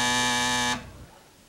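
A quiz show contestant's buzzer gives a single loud, harsh electric buzz lasting under a second, then cuts off into quiet room tone.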